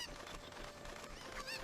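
Cuckoo chicken in Ocarina of Time on Wii U, Kakariko Village, giving short honking squawks over quiet game background, with no talk.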